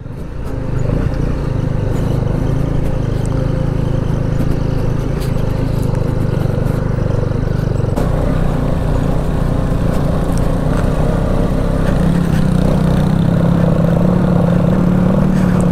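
A motorbike is ridden during a Holi outing, its engine a loud, unbroken drone with rumbling wind noise that holds steady for the whole stretch.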